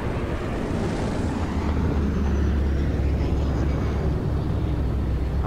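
Aircraft flying overhead on a medicine-drop run in the zombie game Dying Light produce a steady, broad engine drone with a deep low rumble, loud and continuous with a faint shift in pitch as they pass.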